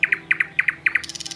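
Small songbirds such as nightingale and cuckoo sing in quick paired chirps repeated in four bursts, then a rapid high trilling run, clear and fairly close with no talk.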